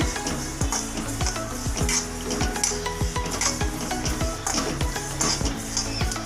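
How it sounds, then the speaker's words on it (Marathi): Black sesame seeds roasting and being stirred in a pan for a Malvani chutney, with a steady sizzle and rhythmic scraping strokes of a spoon against the metal, close and continuous with no talking. "आता तुम्ही बघू शकता आपले हे पण तीळ व्यवस्थित भाजत आले"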